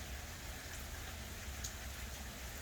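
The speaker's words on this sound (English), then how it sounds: "and a light rain." Light rain falls steadily on a mild summer day, a soft, even hiss of drops on surfaces with no voices or thunder.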